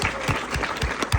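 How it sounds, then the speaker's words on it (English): Brief burst of clapping from a cinema audience at a film Q&A in a New York AMC theater, dense and close with a few sharper individual claps. "everyone clap for Maddie"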